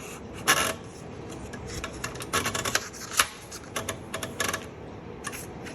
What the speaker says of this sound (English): So this is a 1938 Groma standard. And I'm just gonna type a little bit and let you listen.